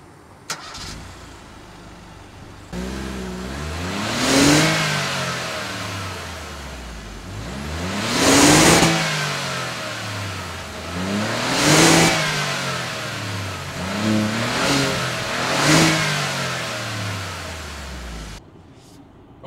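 A small Ford subcompact SUV engine of 123 horsepower starts and revs repeatedly, its exhaust note rising and falling in four or five bursts against a low steady idle.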